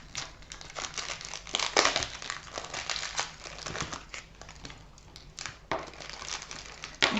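Close, busy crinkling and rustling of plastic packaging as purchases from a discount store are opened, with irregular crackles and tearing bursts throughout and no talking.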